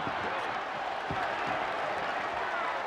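Arena crowd noise at a 1985 Knicks versus Celtics NBA basketball game, a dense continuous roar of many voices with faint thuds, distant and steady throughout.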